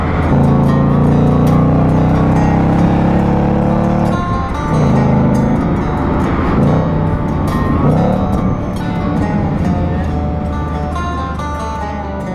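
A 2018 Ford Mustang Bullitt's V8 engine rumbles loud and steady, swelling under acceleration for the first few seconds, then shifting and pulling again with a deep, continuous drone.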